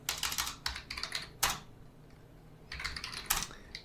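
Typing a command on a computer keyboard for a Linux install, in two bursts of quick close keystrokes separated by a short pause, with a louder key press in between.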